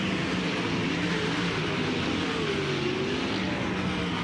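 USAC AMSOIL National Sprint Cars race through turns 3 and 4 on the dirt at Eldora Speedway, a loud, constant, high-revving engine roar as the pack runs close by.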